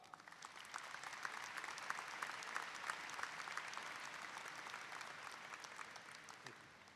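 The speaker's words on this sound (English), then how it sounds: "Please give them a round of applause." Steady applause from a commencement audience at Murray State University, dense overlapping claps held at an even level throughout, fairly distant and alone without talk.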